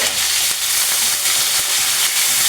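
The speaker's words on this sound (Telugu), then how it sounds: "ఒక ఆనియన్ ఇది కొద్దిగా కరివేపాకు, కొంచెము ఫ్రై అవ్వాలి" Sliced onion and curry leaves fry with chana dal in a hot pan, giving a loud, steady, close sizzle with faint stirring scrapes and no talking.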